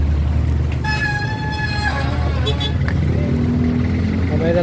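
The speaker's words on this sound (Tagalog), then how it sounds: "Traffic lang." Street traffic on a road near the Balagtas, Bulacan border, with several car horn toots over a steady engine rumble, close and busy, while someone talks throughout.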